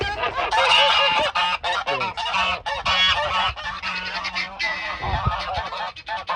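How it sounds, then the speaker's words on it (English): Several geese at a chicken run honk loudly and repeatedly, overlapping in a frantic, close chorus with brief gaps between bursts. "The geese are going crazy."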